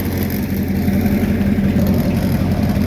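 Ford Thunderbird engine idling steadily after a cold start, a low, even rumble close by that holds constant without revving and without talk.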